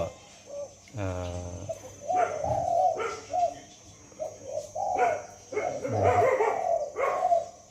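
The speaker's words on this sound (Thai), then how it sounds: "มีเสียงน้องหมารบกวนนะครับ" A dog barks in a rural southern Thai setting near a caged wild bird, several sharp barks in short bursts mixed with bird coos and someone talking.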